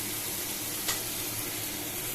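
Potatoes in a hot pan hissing steadily after water goes in, a continuous close sizzle with one brief sharper burst partway through.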